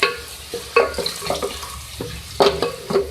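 Ground red chilli being stirred into potatoes frying in a pan, with a few distinct scraping strokes of a spoon over a low sizzle, close and fairly quiet, no talking.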